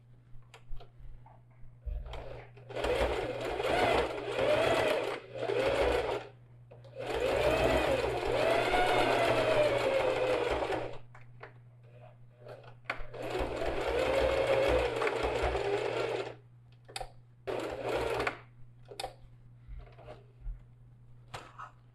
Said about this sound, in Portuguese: Eu venho aqui na máquina e passo uma costura.